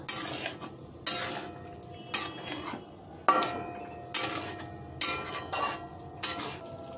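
Paneer dish being stirred in a pan right after flour mixed with water goes in, with repeated sharp scraping strokes of a spoon against the metal, about seven distinct stirs over a soft simmering background.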